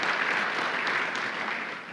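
Sustained applause from a crowd, an even wash of clapping that holds steady and tapers slightly toward the end.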